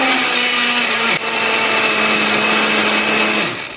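A blender or chopper whirs loudly and steadily while grinding chili peppers with a little water or oil, its motor pitch dipping briefly partway through before running on.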